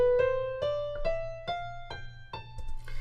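A natural minor scale starting on A plays note by note on a keyboard, about eight evenly spaced tones stepping in sequence, clear and close with no talking.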